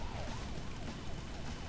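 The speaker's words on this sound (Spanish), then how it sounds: "De la sirena de la policía." A police siren from the video game Bully Scholarship Edition wails in repeated rising and falling sweeps, fairly faint over a dense background of game noise.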